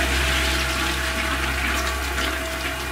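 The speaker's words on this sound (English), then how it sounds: "Press the flush." A toilet flushes loudly and steadily, a continuous rush of water with a deep low rumble running the whole length, up close and with no voices over it.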